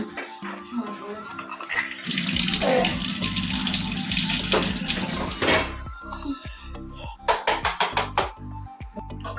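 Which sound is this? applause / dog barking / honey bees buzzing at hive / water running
water running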